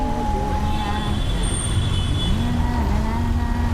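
Steady, loud road traffic with many cars, trucks and buses passing close by, a continuous engine rumble with rising and falling motor tones and a brief high whine, filling the whole stretch.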